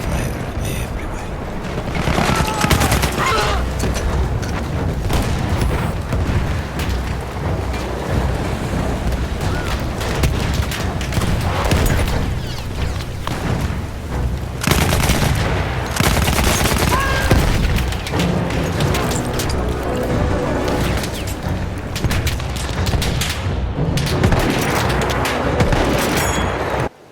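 Battlefield 1 combat on the Avanti Savoia war story: dense gunfire, machine-gun bursts and heavy explosions roll on continuously and loudly, with brief peaks of booming blasts and no clear talk.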